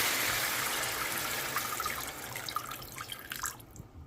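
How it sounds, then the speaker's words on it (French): Water poured into a pan of tomato and beef sauce, a rushing splash that thins into trickles and sizzling drips as the pour eases off. "Après 2 minutes, je rajoute un peu d'eau."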